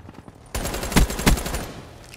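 VMP submachine gun fired in a video game: a dense burst of rapid automatic shots with two louder cracks, after a brief quieter stretch.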